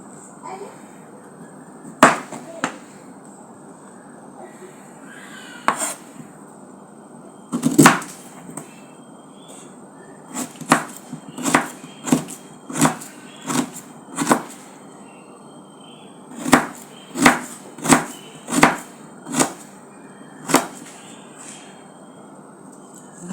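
A knife chops dried chilies and coriander leaves on a board, giving sharp close taps that come singly at first and then in quick rhythmic runs over a faint steady hum, with a little quiet talk.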